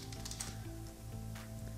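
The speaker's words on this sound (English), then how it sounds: "I'm simply going to click into the content and start typing." Rapid, faint keystrokes on a computer keyboard during typing into a document editor, soft irregular clicks over a steady electronic hum.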